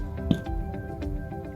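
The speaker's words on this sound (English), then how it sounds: "Then this is mint sauce." Mint sauce squeezed from a bottle onto a homemade Subway-style sandwich gives one short, wet squelch near the start, followed by quiet kitchen background.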